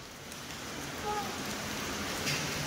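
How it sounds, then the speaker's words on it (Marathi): Steady rain falls outdoors as a family waits to leave for a school admission, a continuous even hiss with faint patter, moderately quiet and unbroken throughout. "आता पाऊस आलाय, थोडा वेळ वेट करावा लागेल."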